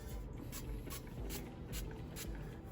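Short hissing bursts of cooking oil spray onto a baking pan, about six quick pumps in a steady rhythm, close and fairly quiet.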